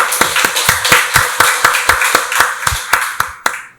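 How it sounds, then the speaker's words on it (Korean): A church congregation applauds with steady, rhythmic clapping, dense and loud at first and then thinning and fading at the end. "박수로 하나님께 영광 돌리겠습니다"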